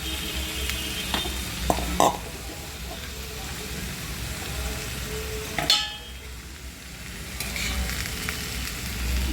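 Boiled potatoes are stirred into a sizzling pan of fried spring onion sabzi, with steady frying hiss, a few sharp spoon scrapes and clinks against the pan, and a voice talking over it.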